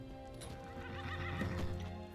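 A horse in Skyrim lets out a loud, close whinny over the steady clip-clop of its hooves, set against a continuous musical background.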